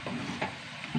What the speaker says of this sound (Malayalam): നന്നായി ഇളക്കി കൊടുക്കുക കേട്ടോ.